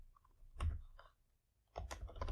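A computer keyboard is typed on in two short clusters of quiet, close key clicks separated by a pause, with no other sound.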